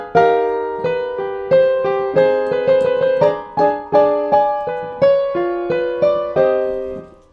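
Solo piano plays the opening of the Scarf Dance ballet piece: a clear, close melody of evenly spaced struck notes and chords. Each note decays before the next, with no voices.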